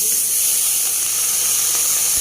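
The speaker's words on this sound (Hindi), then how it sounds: "तो प्याज देखिए फ्राई हो चुका है, तो अब मैं इसमें पालक साग को डाल दूँगी।" Spinach goes into a pan of fried onion and sizzles, a steady, bright hiss of steam and frying that stays even and fairly loud throughout the short stretch, with no talking over it.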